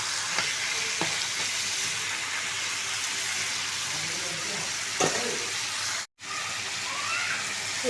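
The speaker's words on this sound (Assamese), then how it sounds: "মাংসটো ভালদৰে ভাজিব লাগিব।" Chicken meat with red chili powder frying in a pan, a steady close sizzle running throughout with occasional stirring clinks and a brief dropout near the end.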